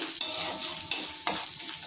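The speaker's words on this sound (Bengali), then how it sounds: "ডালটা সুন্দর ভাজা হয়েছে।" Washed lentils sizzle in hot oil with a bright crackling hiss, and a few sharper spits and stirs stand out over the steady fry.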